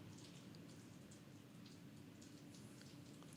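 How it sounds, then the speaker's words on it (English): Steady rain falling outside, a faint, continuous patter of drops on surfaces with no break, heard alone without talk. "That is the rain. Can you hear the rain?"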